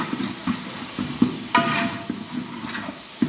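Green chillies and white pepper fry in hot oil as a tempering for marriage-style paruppu rasam, giving a close, hissing sizzle with rhythmic scraping and stirring taps against the pan.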